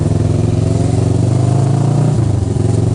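A naked Honda CB400 motorcycle rides by at night, its steady mid-pitched engine drone loud and close, dipping in pitch about two-thirds through as it moves past.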